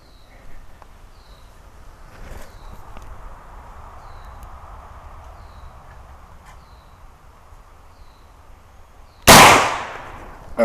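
Single loud, sharp report from a Marlin 45-70 rifle outdoors, with crickets chirping softly before it and the blast decaying over about a second afterward.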